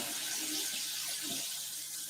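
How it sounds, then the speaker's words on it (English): Hot water running from a kitchen sink tap into a dish, a steady hissing splash, close and continuous for the whole stretch with no talking. "Gonna run some hot water."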